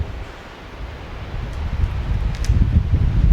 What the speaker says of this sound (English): A gust of wind blows